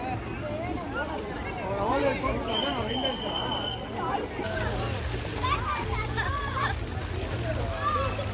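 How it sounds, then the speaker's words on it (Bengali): A family splashes in a resort swimming pool, with bursts of water sloshing under constant chatter from children and adults and a busy crowd murmur around them. "আমরা সবাই মিলে ড্রেস চেঞ্জ করে আমরা এখন পুলে নেমেছি।"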